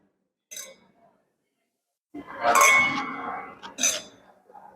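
Wine glasses clinking together in a toast during a wine tasting, a few bright overlapping clinks among people talking and cheering.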